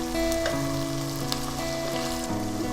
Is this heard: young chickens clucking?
no